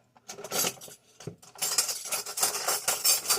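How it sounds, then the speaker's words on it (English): Metal cutlery rattles and clinks as a spoon is fished out of a kitchen drawer, in a few quick jangling bursts with a short pause between, close and fairly loud. "Let me get a spoon."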